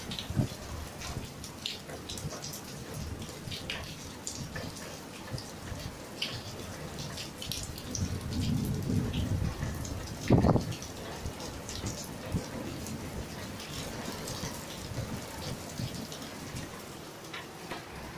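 Steady light rain patters in the background, with scattered drips and a brief louder splash partway through.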